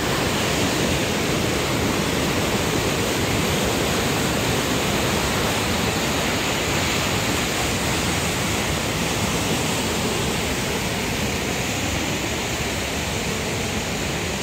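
Rushing waterfall water at Shdugra in Svaneti, Georgia, heard from a wobbly bridge: a loud, continuous broadband roar that stays steady and close throughout, with no voices.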